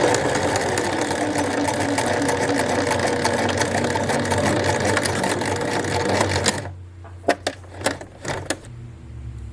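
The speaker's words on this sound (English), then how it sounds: "Sew all the way to the end and then do a back stitch." Sewing machine stitching the hem of a formal dress, a fast, steady mechanical whirring rattle up close that stops abruptly, followed by a few sharp clicks and taps.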